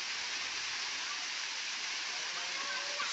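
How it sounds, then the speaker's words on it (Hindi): Large waterfall near Kathgodam, Haldwani, dropping from around 100 feet, heard as a loud, continuous rushing roar of falling water, steady throughout. "इतना खूबसूरत झरना है"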